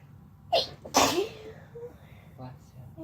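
A person lying against a partner gives a quick double sneeze, a small catch followed by a louder burst, then quiet murmured speech and soft voiced sounds close by.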